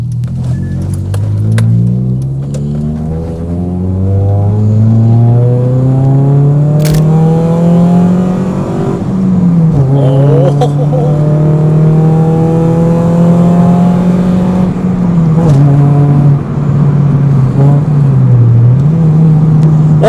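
Loud, continuous exhaust rumble from a Hyundai Tuscani four-cylinder that rises and falls as the car revs, smooth and deep throughout with no booming, with occasional faint clicks.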